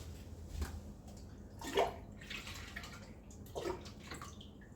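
Water that held a vinegar soak is poured out in two short, quiet splashes separated by a pause, with no one speaking.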